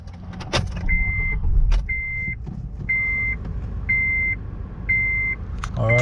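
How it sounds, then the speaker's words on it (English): A 2008 Acura TSX starting up after its battery is reconnected: a click and engine catch, then a low idle under a series of regular electronic warning beeps. "so we're gonna start the car and see"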